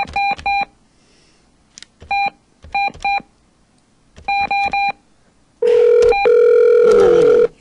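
Telephone keypad tones being dialed, several short clustered beeps in quick groups separated by pauses, loud and close, ending in a longer steady tone with further beeps over it.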